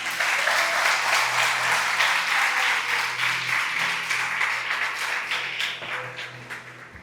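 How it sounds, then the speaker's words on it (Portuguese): A church congregation breaks into sustained applause, dense, close clapping from many hands that fades slowly toward the end. "Dá um aplauso a Jesus"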